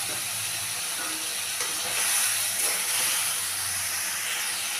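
Fried eggs sizzling in a pan with cumin powder, chilli paste, salt and turmeric, a close, steady hiss and crackle that swells slightly midway.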